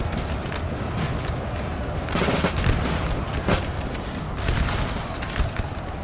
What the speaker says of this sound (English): The rattle of muskets now becoming quite loud as multiple units are now engaging.